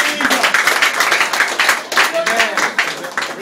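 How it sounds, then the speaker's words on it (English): A church congregation at a dedication service claps hands together loudly and rhythmically, close and continuous, while voices call out over the steady clapping. "Let's give Jesus a nice clap of hallelujah."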